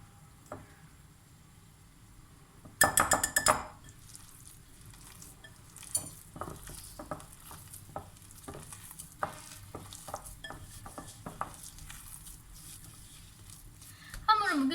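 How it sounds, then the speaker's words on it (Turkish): Soft baklava dough is worked by hand, giving quiet squishy presses and slaps in an irregular rhythm, with one louder burst of clatter near the start, all close and fairly faint. "Şimdi ben elimle yoğuracağım."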